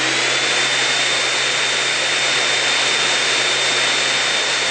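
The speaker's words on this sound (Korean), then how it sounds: "세상의 소리를 다 빨아들일 것처럼 시끄러운 소음을 내며 청소기가 다시 작동을 시작했다." A loud, constant roaring whoosh of a vacuum cleaner runs without pause, steady and close, with a thin high whine on top.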